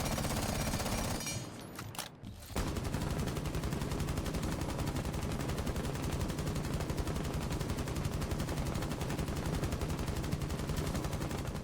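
Sustained automatic fire from the Twitch rifle with an extended barrel in Rainbow Six Siege, a dense rapid stream of shots after a brief pause near the start, loud and continuous with no talk.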